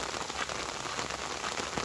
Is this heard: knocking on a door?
no